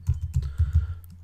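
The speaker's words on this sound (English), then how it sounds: "I'm going to type in" Close, crisp typing on a computer keyboard, about eight quick keystrokes in an uneven rhythm, with nothing else heard.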